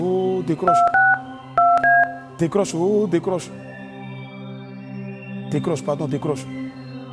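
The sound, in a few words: telephone call being dialed and ringing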